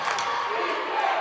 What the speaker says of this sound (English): All of a sudden the crowd is enthusiastic as all get out